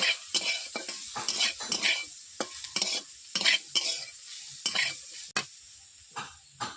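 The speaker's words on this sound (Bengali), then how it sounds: "হলুদ দিয়ে নেড়ে নিচ্ছি।" Greens and vegetables are stirred in a hot kadai with turmeric, giving repeated scraping strokes of a spatula over a sizzling fry, close and fairly loud, with no voices.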